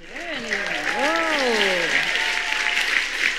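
Audience applause, dense and sustained clapping throughout, with a voice speaking over the start.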